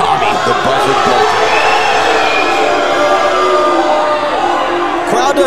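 A wrestling arena crowd reacts to a wrestler from Thunder Bay with a loud, continuous roar of mixed shouts and whoops that fills the hall throughout.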